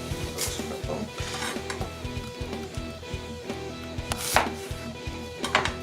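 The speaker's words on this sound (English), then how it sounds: "So next we need to prep our onion." An onion being chopped on a cutting board for egg fried rice, a steady run of sharp knife strikes close by, with a faint sizzle and the clink of kitchen pans behind.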